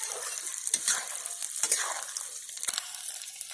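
Pieces of edible gum (gond) fry in hot oil for a sesame-free laddoo recipe, giving a continuous crackling sizzle with soft stirring scrapes and light clinks of a utensil against the pan.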